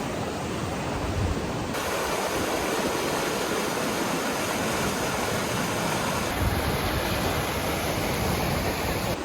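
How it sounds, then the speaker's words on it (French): A mountain stream on Réunion flows beside a road, giving a steady, loud, unbroken rushing of water close by with no other sounds standing out. "on a vu ce cours d'eau"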